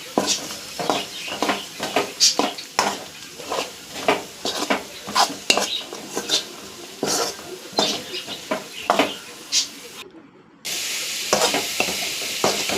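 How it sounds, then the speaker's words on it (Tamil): Potato fry cooking in a pan with salt and chili powder, a steady sizzle under repeated scraping and clinking stirs of a metal spoon against the pan, close and busy, briefly cutting out near the end. "இந்த அளவுக்கு நல்லா வறுத்துக்குங்க."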